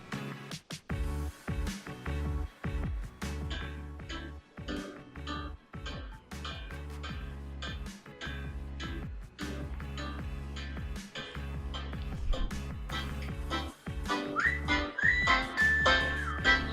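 An Amazon Echo Dot smart speaker plays a Hindi chart song. Steady beat-driven music with percussive hits and a bright melodic line runs throughout at moderate volume, heard from the room, with no talking.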